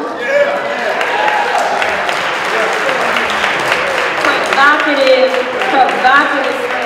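A conference audience gives a speaker another round of applause, a thick, continuous wash of clapping with scattered voices and cheers rising through it near the end.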